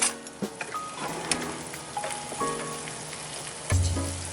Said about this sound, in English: I've got some butter, and I'm going to saute all of that